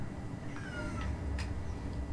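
A house cat meows in a thin, drawn-out cry, then gives a second short mew. Both are faint against a steady low background of video game sound.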